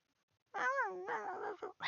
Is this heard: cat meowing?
yes